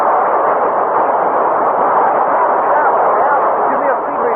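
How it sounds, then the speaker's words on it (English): Rear rockets firing on a spaceship in an old radio drama, a loud sustained roaring hiss that holds steady at close range for several seconds. "Stand by to fire rear rockets."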